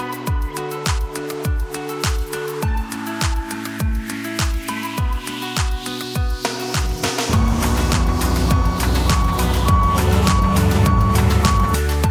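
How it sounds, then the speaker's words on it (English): Reversing beeps sound in a steady repeating pattern as a tow truck arrives, then the engine noise grows louder and denser and drowns out the beeps. "the tow truck has arrived"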